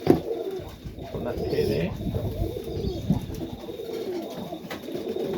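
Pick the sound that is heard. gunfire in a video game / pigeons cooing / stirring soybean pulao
pigeons cooing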